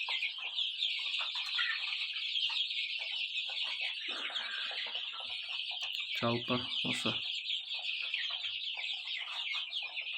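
Brahma hens cluck near chicks in a small farm coop, with steady overlapping clucks and cheeping throughout, a brief louder squawk midway, and a few words spoken over the birds.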